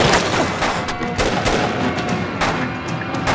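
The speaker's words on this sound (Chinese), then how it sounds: "敌人火力太猛了" Heavy gunfire in a war film battle against Japanese troops, with rapid overlapping shots and bursts running steadily and loudly throughout, some heavier booming hits among them.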